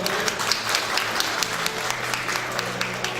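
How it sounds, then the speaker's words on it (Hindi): An audience at a music album release ceremony claps steadily to welcome the chief guest, dense, continuous applause filling the hall for a few seconds with no voices over it. "एक बार जोरदार तालियां हो गया।"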